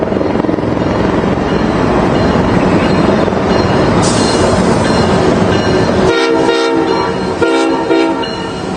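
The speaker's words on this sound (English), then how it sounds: "Look at all of these tanks being driven into Washington, D.C. on a train recently" A freight train carrying military tanks rumbles past close by, a steady loud roar of rolling cars with metallic clatter and brief squealing near the end.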